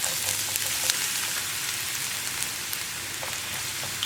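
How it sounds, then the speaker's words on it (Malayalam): Sliced bitter gourd fries in hot coconut oil, giving a dense, even sizzle with fine crackles, close and continuous throughout. "നമുക്കിതിലേക്ക് പാവയ്ക്ക ഇട്ട് കൊടുക്കാം."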